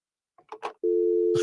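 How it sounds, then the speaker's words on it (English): A steady, unwavering telephone dial tone holds at an even level and cuts off abruptly. A few short, soft sounds come just before it. "Do they know anything about the dial tone right now like that?"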